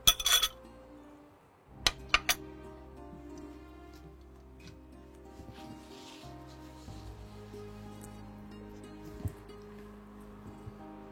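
Plates and cutlery clink and knock on a kitchen counter while Bengali egg curry is served onto a white plate, a few sharp clatters followed by quieter handling over a low steady hum.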